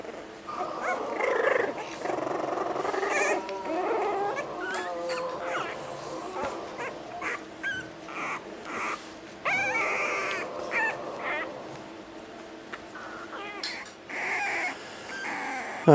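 Four-week-old Cavalier King Charles Spaniel puppies yip, whimper and make small growls and barks almost without pause, several little voices overlapping up close, with a person speaking softly now and then.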